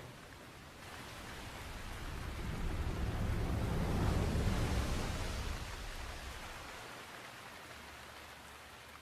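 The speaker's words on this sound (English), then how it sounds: "And with that, the rain stops." Steady rain pours down in Breath of the Wild, a broad hissing wash that swells to its loudest midway and then eases off again, with no voices over it.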